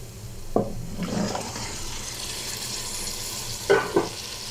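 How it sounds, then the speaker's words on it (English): Chicken pieces are tipped into a pot of onions fried with salt, cumin seeds and garlic, making a steady sizzle, with a few sharp clatters and stirring scrapes close by. "Now I will add my chicken."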